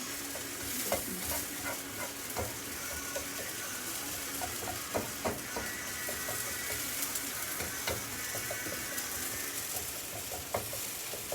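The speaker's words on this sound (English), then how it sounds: "we're cooking these until the onions become translucent" Onions for tacos fry steadily in a pan, a continuous close sizzle dotted with scattered crackles and light clicks of stirring throughout, no voices.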